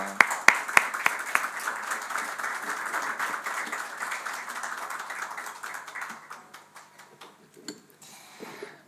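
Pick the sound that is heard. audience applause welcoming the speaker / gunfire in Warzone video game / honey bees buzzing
audience applause welcoming the speaker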